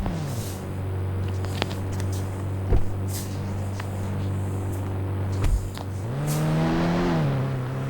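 A motorbike engine in the video game Indian Bike Driving 3D drones at a steady low hum, with a few thuds along the way, then its pitch rises and wavers near the end as the bike revs and speeds up.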